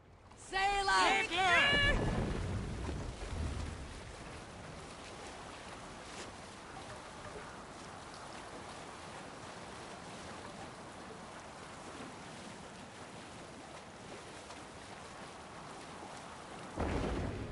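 A Viking longship sets sail on open water in Assassin's Creed Valhalla, with a steady wash of waves and wind running throughout after a brief burst of singing voices at the start, ending with a louder swell.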